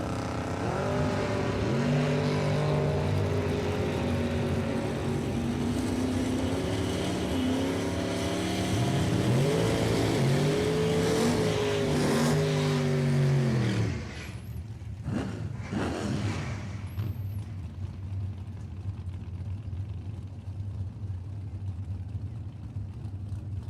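Nostalgia nitro funny cars drag racing at a Funny Car Nationals event roar loudly for about fourteen seconds, heavy engine noise dropping sharply before a duller, more distant rumble and crowd wash take over.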